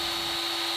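A CNC router spindle on an Inventables X-Carve spins up for sign carving, giving a brief steady high-pitched whine that is close and fairly loud.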